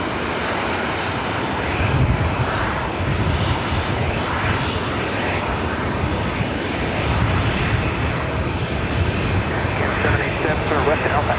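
Airliner bound for Phoenix at Los Angeles International Airport, a loud continuous jet engine roar filling the whole stretch with broadband rumble and wind-like noise.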